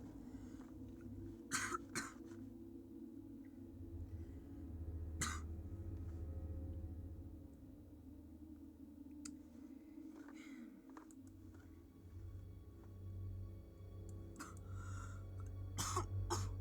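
Several sharp coughs and throat clearings come in scattered bursts over a low background hum, close by and moderately loud.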